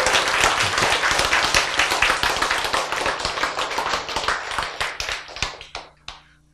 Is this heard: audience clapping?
yes